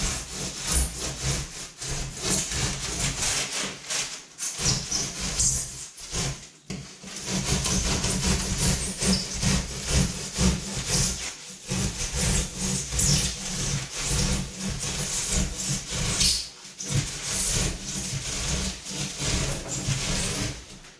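Foam sheet being cut by hand for a homemade 11-foot foam and fabric kayak, a steady rasping sawing stroke repeated close up for about twenty seconds with brief pauses, no talking.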